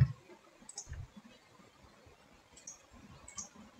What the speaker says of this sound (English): you can make this mesh better by right-clicking here and inserting method